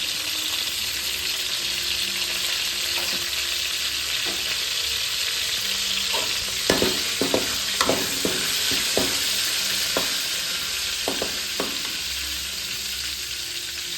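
Cumin seeds crackle in hot oil for a mushroom curry, with curry leaves just added, giving a steady broadband sizzle throughout. Scattered sharp taps and scrapes from stirring in the pan cluster in the middle, with no voices present.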